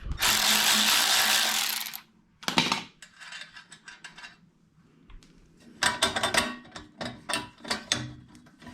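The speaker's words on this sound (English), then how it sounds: "gotta get this nut all the way off." A hand ratchet clicks repeatedly while backing a nut off a turbo crossover pipe on a GTO turbo build, in close bursts of rapid pawl clicking between brief pauses and some shuffling handling noise, with no talking.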